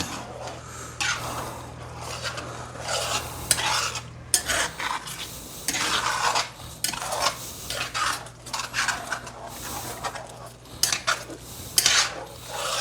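Eggs being cooked in a pan with utensils: repeated stirring and scraping strokes against the pan with clinks of cutlery, over a steady low hum and a faint sizzle throughout.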